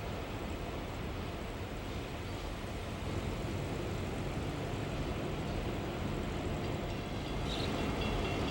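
A freight train locomotive lash-up that includes a slug rumbles steadily nearby at Brownville Junction, a broad continuous diesel drone with no voices, holding even and loud throughout.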